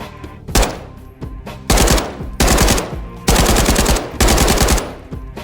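Repeated bursts of rapid automatic gunfire in a Call of Duty shooter, fired at a closed door: several loud, close volleys of a few seconds each separated by short pauses, with no talk.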